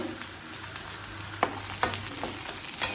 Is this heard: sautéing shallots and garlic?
yes